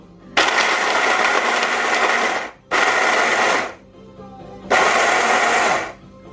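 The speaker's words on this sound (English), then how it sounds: "Every time I use this blender, I am amazed at how strong it is." A powerful blender pulverizes cashews for homemade baby food in three loud whirring bursts, about two seconds, one second and one and a half seconds long, separated by short pauses.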